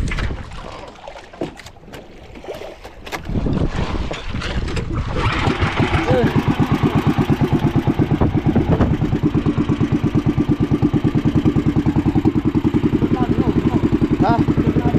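An outboard boat engine sputters through a few attempts, then catches and settles into a loud, steady, rapid putter that carries on close by, with voices talking over the first few seconds.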